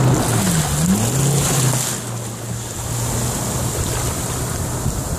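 Jet ski engine droning over the sea at Sunny Isles Beach, a steady motor hum wrapped in wave wash and wind buffeting, loud and close throughout.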